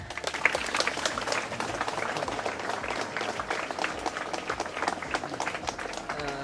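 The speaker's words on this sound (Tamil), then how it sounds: "கைதட்டுங்க" A crowd claps at a ceremony honouring top-scoring students in Nagapattinam, a sustained, dense patter of many hands at moderate distance, steady throughout with faint voices mixed in.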